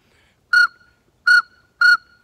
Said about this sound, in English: You have to flutter your tongue with these whistles to make the pintail sound